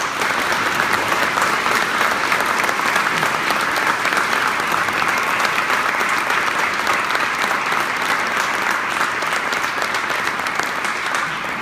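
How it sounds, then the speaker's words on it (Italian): Warm applause from a gathered crowd in Picinisco, honoring collaborators during a priest's farewell greetings; a thick, continuous wash of clapping that holds steady and loud for the whole stretch with no voices breaking through. "Facciamoci un applauso."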